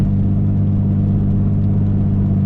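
A car with a newly fitted exhaust drives at low revs under 3,000 RPM, a steady, loud, close engine drone and exhaust rumble that holds constant throughout with no voices.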